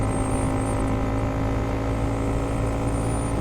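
A Honda Monkey 125 motorcycle runs at speed in fifth gear, its engine a steady loud drone with constant wind rush and no breaks.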